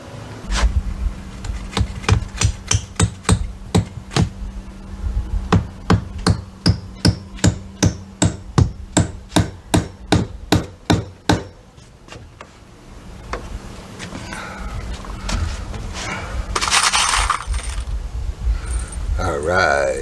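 Hammer blows drive nails into the builder board of a new window installation, a steady series of about twenty sharp, evenly spaced strikes, close and loud, that then give way to shuffling and handling noise.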